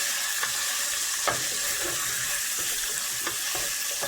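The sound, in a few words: garlic and chicken frying in pan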